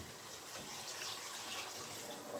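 Boiling water is poured over nutmeg-sprinkled rice in a pot, giving a steady, full gushing pour that runs unbroken for the whole stretch, with no talk.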